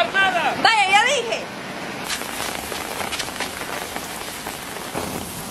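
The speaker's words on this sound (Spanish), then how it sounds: "deja de andar jugando bajo la lluvia, se va a enfermar" Steady rain falling and pattering on surfaces outdoors, a dense continuous hiss throughout, with voices speaking over it early on.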